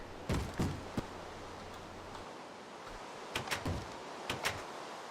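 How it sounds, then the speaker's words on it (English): Mobs in the Minecraft Tekkit game beat on a door, giving scattered dull thuds and knocks, a few quick hits near the start and another cluster later, fairly faint against a quiet low hum. "They're beating the door somewhere."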